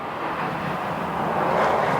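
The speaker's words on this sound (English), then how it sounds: "I hear a fighter jet flying past" A fighter jet flies past overhead as a broad, steady roar that swells slightly in loudness, heard alone without speech.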